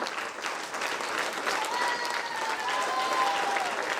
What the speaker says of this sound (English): And I want a bigger applause for the girl who's the strength here.